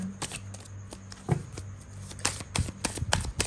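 Tarot cards shuffled by hand for a pick-a-deck reading, a close, quick run of riffling and slapping bursts with no talking.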